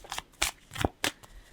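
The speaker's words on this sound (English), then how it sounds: "As I'm shuffling the cards" Tarot cards being shuffled close up, four quick riffling bursts in about a second and a half with no talk.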